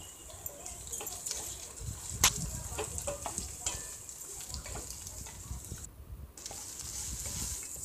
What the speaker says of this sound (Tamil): முள்ளங்கி இதில் சேர்த்து நல்லா எண்ணெயிலே நல்லா வதக்கிடுவோம்